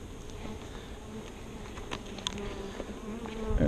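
Honey bees buzz in and around an open hive box during robbing season, a steady low hum with individual bees droning past up close.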